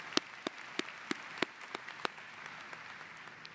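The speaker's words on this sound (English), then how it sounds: "round of applause for the graduates" Sparse clapping at a fall commencement honouring graduates, a slow series of about seven distinct, fairly close claps at a steady rhythm, fading to faint scattered ones.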